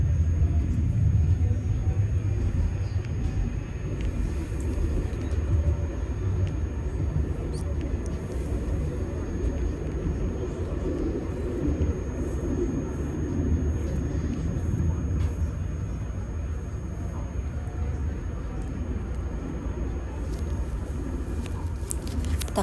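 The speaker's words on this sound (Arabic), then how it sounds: "ركبنا في المترو وهذا هو الطريق، وأنا طبعا بالمترو عم بصور الطريق." Steady low rumble of a moving metro train car in Istanbul, between Yakuplu and Sultançiftliği, with constant rolling noise and faint rattles throughout, fairly loud and continuous.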